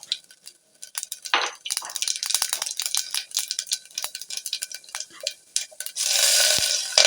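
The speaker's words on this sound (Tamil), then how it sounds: "இது முதல்ல கடுகு உளுந்த பருப்பை போட்டுக்கிறோம்" Busy kitchen clatter with stirring and scraping in a pan, then a steady hiss of mustard seeds and urad dal frying in oil near the end.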